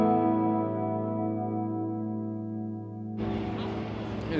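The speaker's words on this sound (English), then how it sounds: "We've got modulated reverb on." Electric guitar played through a Mooer Ocean Machine pedal set to modulated reverb: a sustained, shimmering chord rings out with a warbling wash, then a fresh strum lands near the end.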